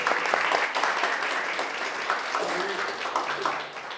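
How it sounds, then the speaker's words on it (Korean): A church congregation at an anniversary worship service applauds to thank the choir and God; loud clapping starts strong and gradually thins out, with faint voices murmuring underneath. "우리 준비하신 우리 성가대에게 감사하고 또 하나님께 큰 박수로 감사드렸으면 좋겠습니다."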